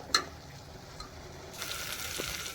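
Masala spice paste frying in oil for Kolhapuri misal pav gives a soft, steady sizzle close by, with a small click near the start and the frying growing a little brighter partway through.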